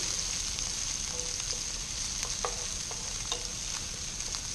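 Food frying in oil in a pan is stirred, giving a steady close sizzle with soft scraping and occasional light clinks throughout, and no voices.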